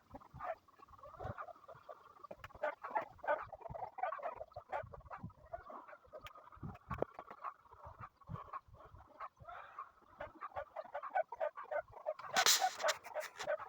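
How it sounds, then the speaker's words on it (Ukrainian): Hens cluck continuously nearby, busy overlapping calls with a brief rustling burst near the end. "Кури невчасно розкудахталися."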